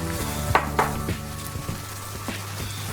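Lamb cooking in a pan with coconut milk and tomatoes for a Thai-style Indian lamb curry, a steady close sizzle with a few utensil knocks and scrapes against the pan and a constant low hum underneath.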